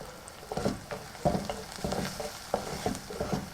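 Onions being stirred in a frying pan for Kerala prawn curry: a spoon scrapes through them in irregular strokes, about six distinct pushes, over a steady low sizzle, close and fairly quiet, with no talking.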